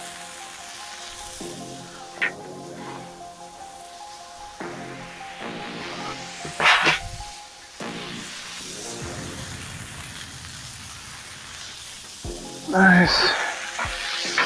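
Smash burgers sizzle steadily on a Char-Griller Flat Iron griddle, a low continuous frying hiss broken by a few louder bursts as patties are pressed or stirred, with a brief spoken word.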